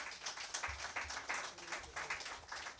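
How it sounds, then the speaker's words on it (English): An audience claps for a visiting Venezuelan vice minister at the Freedom Center, a soft, fairly distant patter of clapping that comes in uneven bursts and sits faintly in the room. "Let's give him a clap."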